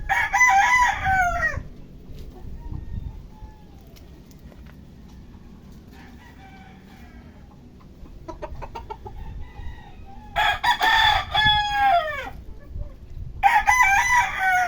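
Roosters crow loudly in bursts, one near the start and two more toward the end, with quieter backyard poultry-yard sounds and faint clucking between.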